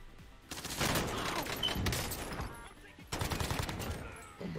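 Gunfire from a Markov pistol in the Warzone video game: bursts of sharp shots in two clusters, loud and close, with voices audible around them.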